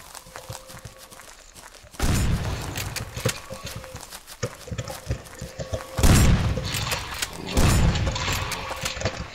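A shotgun in the survival game Rust fires three loud, booming blasts a few seconds apart, each followed by a rumbling decay, with faint clatter and footstep-like noise between shots.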